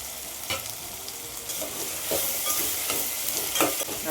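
Tomato, green chilli and chopped bottle gourd sizzle and fry in a pan, with intermittent scraping stirs of a spatula and a steady hiss throughout.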